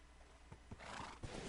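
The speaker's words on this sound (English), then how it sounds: "This is an awesome looking horse." A horse neighs in a video game, a faint whinny with some hoof clatter, heard quietly at a distance without talk.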